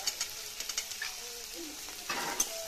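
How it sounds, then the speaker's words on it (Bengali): A spoon scrapes and tosses a spiced potato samosa filling with peanuts in a pan. Quick light scrapes and taps sound over a faint sizzle, ending with a brief louder stir. "এবার আমি খুব সুন্দর করে নেড়ে চেড়ে নামিয়ে দেবো"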